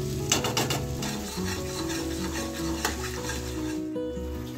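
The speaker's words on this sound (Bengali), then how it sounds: "মাখন দিয়ে দিচ্ছি। 2 চামচি মাখন বাটা দিয়ে দিলাম।" Two spoonfuls of butter melting and sizzling in a hot kadai while preparing butter chicken, a steady close crackle with light stirring and scraping of utensils throughout.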